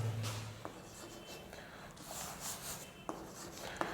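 A pen scratches across paper during a class lecture on linear equations, steady close scribbling strokes with a few small taps, faint and soft under quiet room noise, with no one talking.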